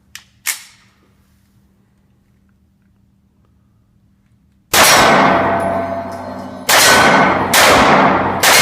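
A Glock 43 pistol fitted with an extended magazine fires three loud, sharp shots at close range, each with a lingering ring, after a quiet stretch opened by a couple of faint metallic clicks.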